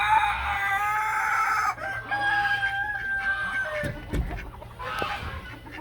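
A pet rooster named Roo in a backyard poultry setup gives repeated clucks and a drawn-out crowing call, loud and near, with other birds and faint farmyard noise around him.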